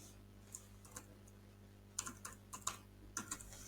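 Light, scattered keystrokes on a computer keyboard, a few isolated taps followed by a quicker cluster of clicks, quiet and close with no voices.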